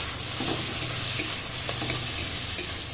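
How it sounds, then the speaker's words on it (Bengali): Fish pieces fry in hot oil in a home kitchen while a Bengali fish-chop mixture is being prepared, giving a continuous close, bright sizzle. Small crackles and pops rise out of the hiss. "তেলের ওপর দিয়ে দিচ্ছি। একটু ভেজে নেব, যা আঁশটি গন্ধ যাতে না থাকে।"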